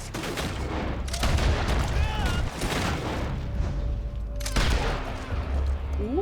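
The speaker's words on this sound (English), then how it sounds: "Let's test the repeating shotgun out at the fort." A repeating shotgun fires at a fort in the Red Dead Redemption 2 video game: several loud, sharp blasts with booming tails ring out a second or two apart over a dense, busy game soundscape.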